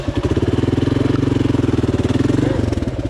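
A motorcycle engine runs close by with a loud, even pulsing rumble that holds steady and dips slightly near the end.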